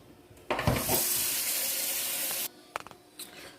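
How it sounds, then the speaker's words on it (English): Tap water runs steadily into a cooking pot for about two seconds, a loud, even rushing hiss that cuts off abruptly, followed by a few light clanks, with no talking. "Let's fill it with water."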